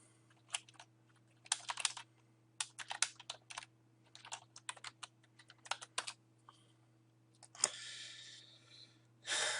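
Keys clatter on a computer keyboard while using the Asana project management app, arriving in quick separate bursts of typing with short pauses, close and fairly quiet against a steady low hum, ending in a louder rustling burst.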